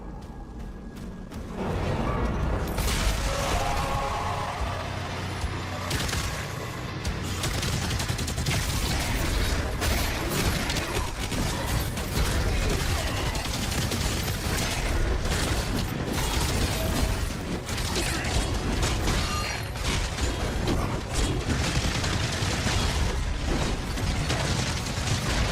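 Continuous heavy gunfire and booming explosions from a rocket launcher in the video game DOOM The Dark Ages, loud and dense throughout with rapid bursts layered over a constant roar.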